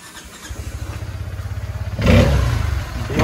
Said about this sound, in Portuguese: Agora acelera dessa aqui pra gente ver o barulho